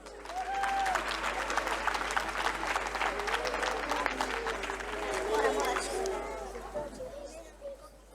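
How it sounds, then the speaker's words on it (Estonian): Audience applause at a school charity spring festival concert: a full, steady round of clapping from a crowd with scattered cheers, loud and sustained before tapering slightly at the end. "Võtame nad vastu suure aplausiga."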